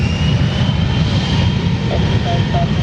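An aircraft at a busy airport begins its takeoff run, with a continuous loud engine roar that stays steady and close for the whole stretch.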